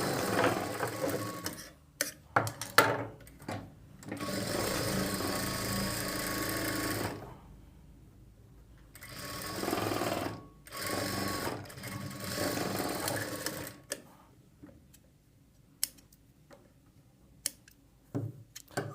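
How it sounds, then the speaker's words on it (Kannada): A sewing machine stitches the side seams of a plain blouse during fitting, whirring in several long, close runs separated by quiet stretches and a few short clicks and snips. "ಇನ್ನು ಎಕ್ಸ್ಟ್ರಾ ನಾವು 2 ಹೊಲಿಗೆನ ಇನ್ನೂ ಎಕ್ಸ್ಟ್ರಾ ಹಾಕ್ಕೊಳ್ಬೇಕಾಗುತ್ತೆ"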